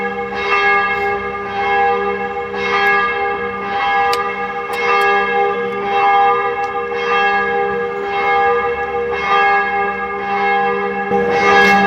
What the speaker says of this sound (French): Le bruit d'une cloche, quoi.